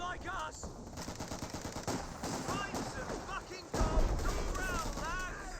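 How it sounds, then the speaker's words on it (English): Artillery and mortar fire, including 120mm and 4.2-inch mortars, rains down in a Company of Heroes 2 battle, a dense stream of overlapping gunfire-like bangs and impacts with a heavier burst partway through. "It looks like some artillery is raining in over here. A mix of looks like a looks like a 120mm mortar,"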